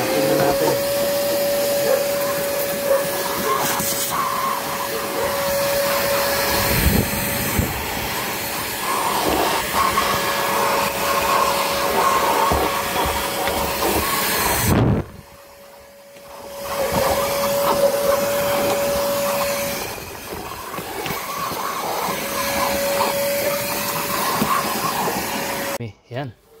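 A vacuum cleaner works over the beige interior of a 2005 Toyota Fortuner, giving a loud, steady whine with a hiss of airflow. It cuts off briefly around the middle and then starts up again, with muffled handling noises.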